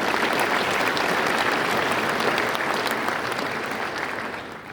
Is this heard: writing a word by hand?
no